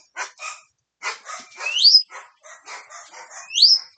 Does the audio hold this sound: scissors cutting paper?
no